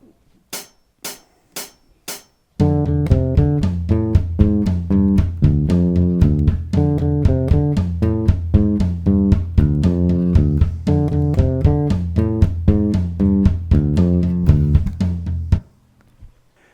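Bass guitar plays the riff, preceded by four sharp count-in clicks, then a repeating pattern of loud, punchy notes played alone and up close before stopping abruptly.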